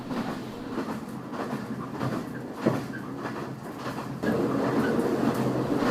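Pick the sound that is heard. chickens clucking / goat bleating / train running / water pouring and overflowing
train running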